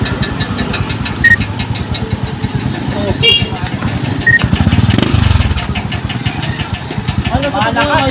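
A motorcycle engine with a knocking fault idles close by, a rapid, even chugging pulse with a brief rev, while people talk over it.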